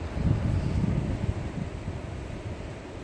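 Steady wind gusting at the seaside at Castlepoint, New Zealand, on a breezy morning, a continuous low roar and buffeting against the microphone with no voices.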